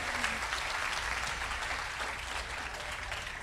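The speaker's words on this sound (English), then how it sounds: "you can give a round of applause to your winner" Steady applause from a crowd at the Lone Star Clash gaming tournament fills the space, dense continuous clapping at a consistent loud level throughout.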